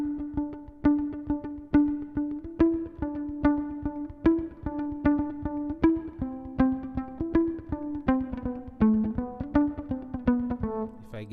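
Violin bowed in steady rhythmic groups of three, with short, evenly spaced notes repeating clearly and alone with no talk.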